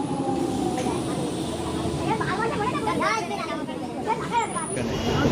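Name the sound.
train arriving at station platform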